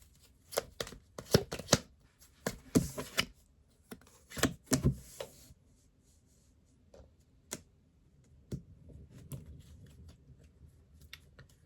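Tarot cards shuffled and drawn by hand: a run of quick riffling, slapping bursts in the first five seconds, then a few isolated flicks and soft sliding rubs as cards are set down, close and fairly quiet, with no talking.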